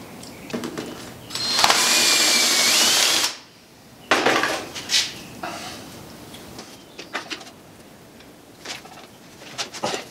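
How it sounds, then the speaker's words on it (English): A power drill bores out the clogged passageway of a plaster mold for an injection molder, a loud steady whine for about two seconds, then shorter intermittent bursts of drilling and handling noise. "I'll just do that with the drill."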